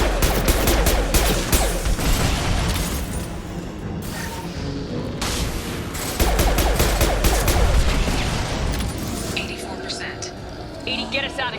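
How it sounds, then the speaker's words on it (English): A high impact shot fires in the video game Mass Effect 2, part of a loud, dense barrage of rapid gunfire bursts, crashes and mechanical clatter, with brief gaps between volleys and voices over the action. "Firing a high impact shot."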